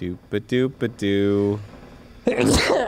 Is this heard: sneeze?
yes